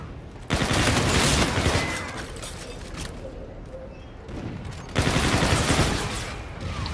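Bursts of video game gunfire, including sniper rifle shots, crackle loudly in two dense volleys with a lighter stretch of scattered shots between them, no talk over it.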